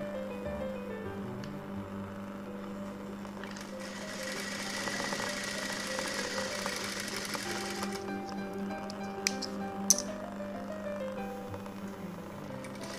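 A sewing machine stitches blouse pieces with a steady, close mechanical whir and rapid needle rhythm, running continuously with slight changes in pace, followed by a couple of sharp clicks near the end.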